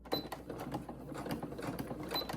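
A home sewing machine stitches forward and back in a rapid, steady mechanical patter with sharp needle clicks, close and fairly quiet, running throughout with no talk.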